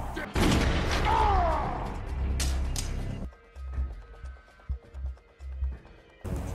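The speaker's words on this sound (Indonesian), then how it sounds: "mereka adu senjata" Gunfight in the 2015 film Vendetta, with a dense burst of gunfire and booming impacts amid shouting and film sound for about three seconds, followed by quieter scattered thuds and movement.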